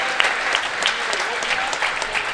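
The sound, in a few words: audience applause for junior freestyle finalists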